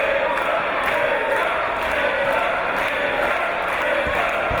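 A British professional wrestling crowd keeps up a steady, roaring wall of cheers and shouts for Gibson, loud and continuous throughout with no break.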